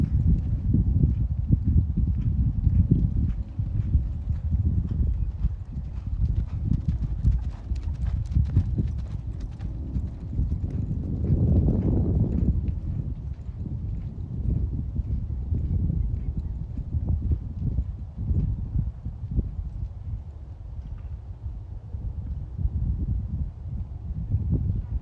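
A ridden horse walks on firm ground with a steady, close clip-clop of hooves that runs throughout, and a voice speaks now and then.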